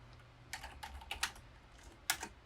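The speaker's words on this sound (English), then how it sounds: "double click on our title layer to bring out a text window and type in tastefully" Title text is typed on a computer keyboard in a quiet room. A few close, crisp bursts of keystrokes come in short clusters, with brief pauses between them and no talk.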